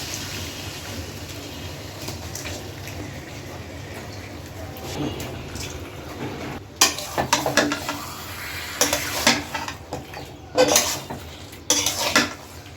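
Cut and washed pork tipped into fried masala in a pan and stirred, giving a quiet sizzle at first, then several sharp metallic clanks and scrapes of a spoon against the pan.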